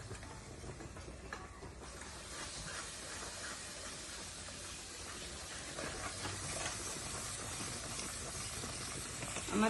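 Spices sautéing in hot oil in a pan, a steady, even sizzle and hiss that holds unbroken for nearly ten seconds with no talking.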